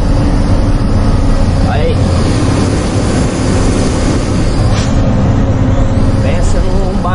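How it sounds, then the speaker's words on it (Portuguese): A truck's engine brake with a leaking exhaust manifold gasket, loud steady drone and rumble with faint whistling tones rising over it, a brief voice heard at the start. "o assobio que dá o freio ao motor por causa da junta do coletor vazando"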